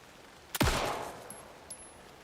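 A single heavy gunshot blasts in the Alan Wake 2 video game. A long echoing decay follows, then a couple of faint metallic clicks.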